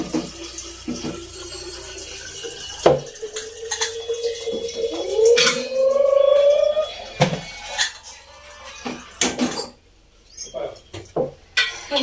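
Tap water runs in bursts at a kitchen sink during washing, with dishes clinking and occasional quiet pauses between splashes.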